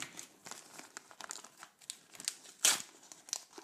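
A sticker pack wrapper is torn open and crumpled by hand up close, giving quiet, irregular crinkling rustles with one sharper tearing burst near the end.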